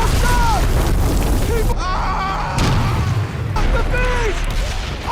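Mortar shells burst in a World War II battle scene on Iwo Jima from a war series, with heavy booms at about two and three seconds amid a continuous roar of combat noise and shouting voices.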